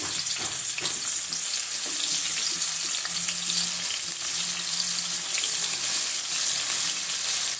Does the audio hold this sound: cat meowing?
no